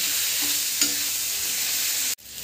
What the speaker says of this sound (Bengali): দিয়ে মশলাটা কষবো কিছুক্ষণ ধরে